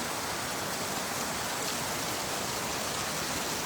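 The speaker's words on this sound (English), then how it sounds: "listening to the raindrops here at the farm" Steady rain falls on a farm in the evening, a dense continuous hiss of drops with no breaks, even and fairly loud, with no voices.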